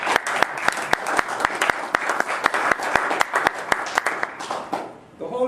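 An audience at the Blackburn Center applauds before an Islamic lecture, a steady wash of clapping punctuated by a few sharp, regularly spaced nearby claps, fading toward the end, with faint voices mixed in.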